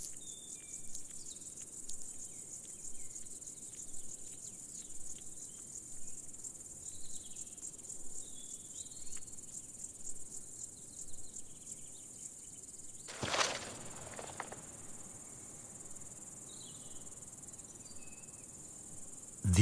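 Marsh grasshopper chirps steadily on an open moor, a faint, high, continuous stridulation lasting throughout, broken near the end by a brief louder rustle.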